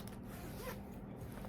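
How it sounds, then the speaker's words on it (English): The double zipper on a purse is pulled open with a soft, steady rasping run, quiet and close with a faint hiss underneath and no talking. "So the first one is a double zip"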